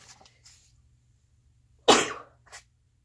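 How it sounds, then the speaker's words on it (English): A single sharp sneeze bursts out in a quiet indoor room, preceded by faint breathy sounds and followed by a small trailing exhale. "I had to sneeze"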